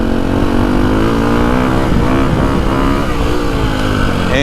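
A Ducati 450 Desmo 450MX motocross bike's single-cylinder engine revs loud and close, pitch climbing smoothly as RPM builds, sustained throughout with no voices.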